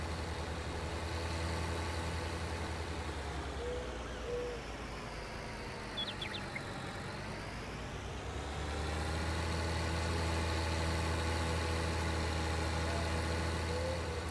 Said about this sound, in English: There's our Fendt tractor.